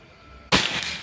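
A single sharp shot from a Predator Pajero Gen 6 air gun during an accuracy test, one abrupt close crack over a quiet background with a brief ringing tail.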